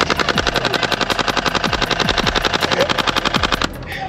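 A gun fires a long, rapid, continuous burst of loud shots close by, with no breaks between them, then stops abruptly near the end.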